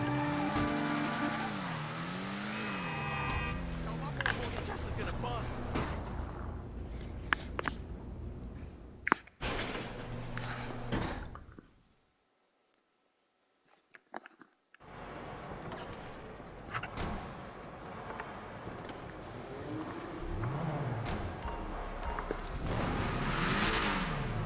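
A BF Weevil car engine revving hard in GTA Online, rising and falling in sharp pitch sweeps, loud and close, with a short silent stretch midway before the engine roars again.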